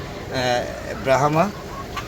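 A native deshi rooster gives two short, close clucking calls among backyard poultry, with a voice talking nearby.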